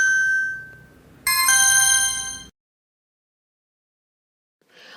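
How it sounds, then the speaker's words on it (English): The alarm ringtone of a HelpPhone D7000 One emergency phone: a loud electronic tone sounds alone, followed by a bright, harmonic chime-like ring that cuts off abruptly into silence, and a faint sound returns at the very end. "The phone turns back on, the alarm is set off, and the telephone will call the remote assistance."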